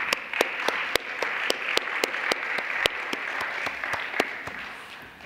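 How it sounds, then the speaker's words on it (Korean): A congregation at a young adults' church service applauds, warm continuous clapping with a few sharp individual claps standing out above the steady wash, fading slightly toward the end. "천진 참부모님께 감사의 박수를 올려주시기 바랍니다"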